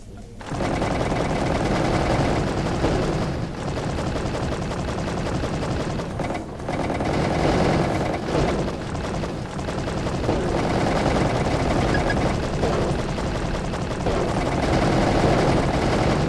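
SMG gunfire in a video game with mechs, heard as long dense bursts of rapid fire that run almost continuously and loud, with brief gaps between strings of shots and no talking.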